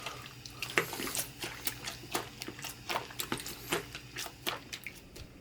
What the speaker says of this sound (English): Cleaning out that foam filter. Look how filthy that water is.